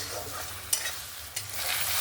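Ginger, garlic and onion paste is stir-fried in a pan for a Bengali raw jackfruit and prawn curry, giving a low, steady sizzle with two sharp spatula clacks, close and fairly quiet, without speech.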